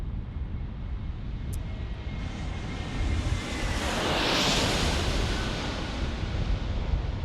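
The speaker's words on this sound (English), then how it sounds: "Here is the A321neo for Frontier." A Frontier Airbus A321neo jet airliner at San Diego International Airport roars past as a broad, steady engine rumble that swells toward the middle of the clip and stays loud, with no talking.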